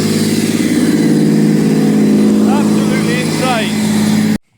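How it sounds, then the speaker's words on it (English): A supercharged Honda NSX with a new exhaust system roars steadily and loudly at idle-high revs, its blower whine and rumble filling the space while voices talk over it. "Oh my god, the blow from that supercharger"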